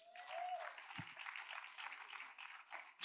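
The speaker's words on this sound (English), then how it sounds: "Now give him a hand clap for that." A church congregation applauds steadily for a few seconds during a sermon, a dense wash of clapping at moderate distance.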